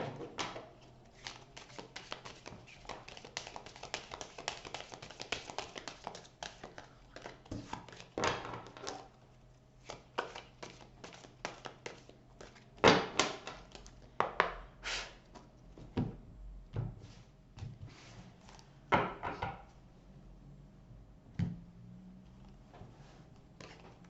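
Cartomancy oracle cards shuffled quickly by hand, a run of dense papery riffles and soft flicks with a few sharper snaps, close and fairly quiet, alone with no talking.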